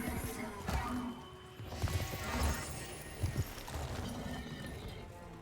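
Horse hooves clip-clop in the Warframe video game, a rhythmic galloping clatter over a dense, noisy game soundtrack with intermittent heavier thuds.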